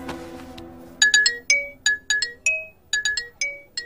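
A phone ringtone sounds for an incoming call, a bright electronic melody of short repeated chiming notes in quick bursts, following a brief low murmur, clear and fairly close.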